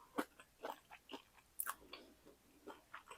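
Someone chewing crunchy fried shrimp tempura close up, a series of crisp bites and crunches in an irregular rhythm, quiet and isolated with no talking.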